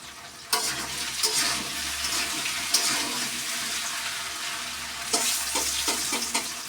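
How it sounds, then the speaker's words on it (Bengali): Panch phoron spices fry in hot oil in a wok, giving a continuous crackling sizzle with a few sharper bursts and scrapes of stirring, fairly close and with no talk. "এই জন্য আমি এখানে পাঁচফোড়নটাকে ভেজে নিচ্ছি।"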